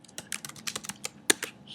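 A computer keyboard clatters with a quick burst of irregular keystrokes as a password is typed, soft and close, the clicks closely spaced over under two seconds with no voice.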